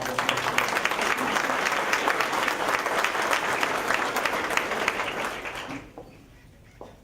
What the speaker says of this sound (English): I'd like to get a round of applause for those that helped prepare tonight's meal